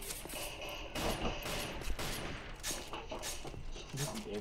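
Rapid pistol gunfire in the video game Devil May Cry 3, a steady stream of shots mixed with game sounds, while people talk over it.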